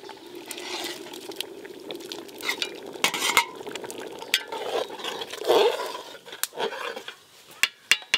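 Khichuri of rice and fried vegetables being stirred in a pot at home, with a spoon scraping and clinking against the metal in irregular bursts over a soft background hiss.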